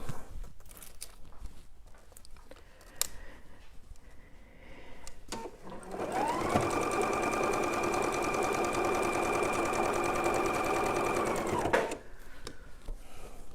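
A sewing machine runs in one steady, loud burst of rapid stitching along a seam, lasting about six seconds, after quiet handling noises and soft thumps.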